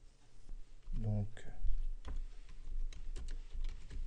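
Typing on a computer keyboard while adding a product to a WordPress shop, a run of light, close key clicks continuing after a brief spoken word at the start.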